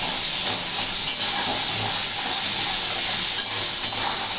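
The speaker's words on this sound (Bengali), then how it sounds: "পেঁয়াজ যখন ভাজবো তখন এর মধ্যে আমি দিয়ে দেবো আমার যেটুকু চিনির দরকার" Onions frying with sugar until browned for a prawn curry, a loud, even hiss of hot oil with occasional sharp clicks of a spatula against the pan, no voices.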